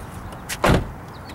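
A car door thuds shut once, close and fairly loud, with a faint click just before it in an otherwise quiet car interior.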